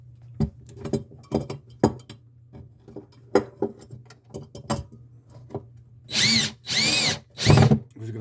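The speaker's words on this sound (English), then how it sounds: "a screw there ready to drill." Several sharp taps and clicks, then three loud whirring bursts of a power drill driving screws to install a 4-inch round electrical box on lumber, each about half a second long, close by.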